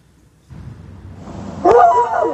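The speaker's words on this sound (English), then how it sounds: "And so here's a dog barking." Faint rustling gives way to a single sharp dog bark near the end, close by, with a short yelping tail after it.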